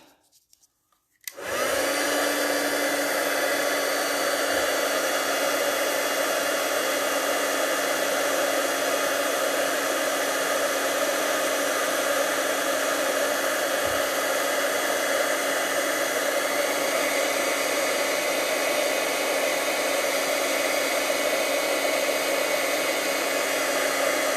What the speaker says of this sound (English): I'm going to plug in my heat gun. And we're going to emboss.